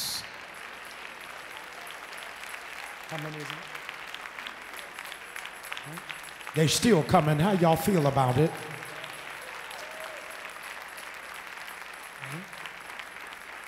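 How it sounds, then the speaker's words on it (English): Church congregation breaking into loud, sustained applause for a couple of seconds, mixed with cheers. Before and after it a preacher speaks and the room stays murmuring. "Cathedral, clap till your hand turns red."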